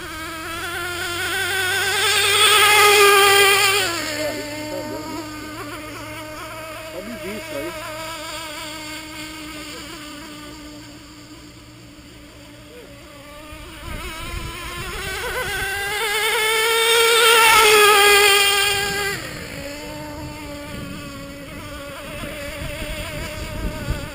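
A small nitro model engine, an SG 21 Picco, buzzes continuously at high revs, its pitch swelling up and down twice in long waves as it is throttled.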